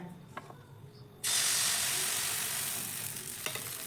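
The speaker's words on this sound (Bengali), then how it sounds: "এখানে আমি দিয়ে দিচ্ছি এক হাতা পিঠের ব্যাটার" A ladleful of rice batter for pitha hits a greased pan and bursts into a loud, steady sizzle that holds for a few seconds after a quieter lead-in with small clinks.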